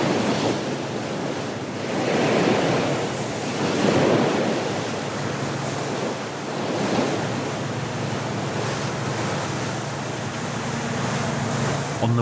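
Ocean surf rolls and crashes onto rocks on the Tasman Sea coast of New Zealand in slow, swelling surges, a continuous roar of breaking waves with wind noise over it.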